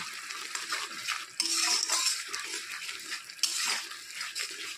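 Masala sautéed with tomato, salt and a pinch of sugar in a pan, a metal spoon scraping and clinking against the pan in bursts over a low sizzle, no voices.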